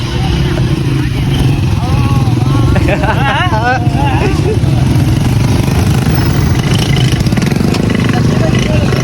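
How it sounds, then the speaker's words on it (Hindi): Motorcycles arriving on a road for a welcome gathering, with a continuous mid-pitched engine drone and revving over a noisy crowd, while people talk and shout nearby and a high siren-like warble rises briefly partway through. "ये तो सिर्फ बाइक नजर आ रही है।"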